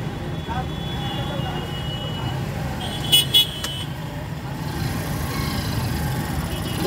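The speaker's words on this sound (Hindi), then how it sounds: "बहुत हैवी ट्रैफिक है, इसमें से गाड़ी निकल रहा है मुश्किल हो रहा है" Heavy road traffic in a jammed Bhiwandi street rumbles steadily, with a short pair of car horn toots midway and a voice talking over the engine noise.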